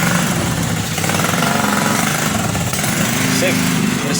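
A Honda Scoopy 2022 scooter engine runs loudly and steadily close up, with a constant rattling clatter and a voice talking over it.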